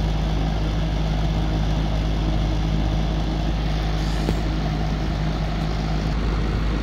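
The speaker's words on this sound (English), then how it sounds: "So condenser fan is working fine." An old Lennox air conditioner's condenser fan runs with a steady, loud, droning whir and a low hum, continuous and unbroken, with no voices.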